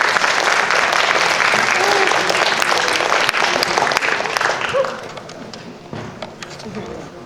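Audience applause following a student research presentation at a Korean academy event, dense and loud clapping from a full room that tapers off after about five seconds into scattered claps, with a voice speaking over it.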